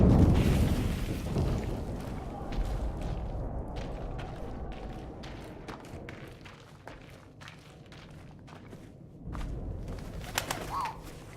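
A pigeon coos in the World War I video game 11-11 Memories Retold, soft repeated calls over a low rumbling wartime ambience with scattered thumps and clicks.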